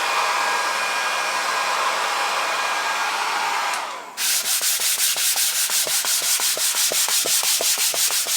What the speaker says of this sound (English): I also sanded the PVC and the aluminum to give it a little tooth.